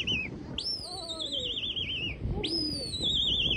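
About 25 racing pigeons pass overhead, with clear, sweeping whistle-like tones rising and falling in two long bursts over a steady outdoor background hum.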